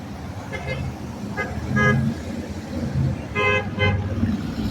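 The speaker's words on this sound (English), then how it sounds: "there's some more horns honking" Several car horns honk in short blasts, some overlapping, over a steady rumble of nearby traffic in Daytona Beach.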